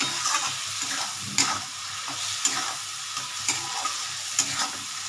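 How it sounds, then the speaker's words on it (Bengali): Spices and vegetables sauté in a pan for a mixed-vegetable prawn curry, a continuous close sizzle with periodic clinks and scrapes of a spoon stirring. "একটু কষিয়ে নেব, তারপরে আমি সবজিটা দেবো।"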